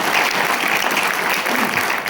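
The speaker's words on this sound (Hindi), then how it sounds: "एक बार तालियां चाहूंगा" An audience at an Indian certificate ceremony gives a team a round of applause, dense, steady clapping that carries on evenly for about two seconds.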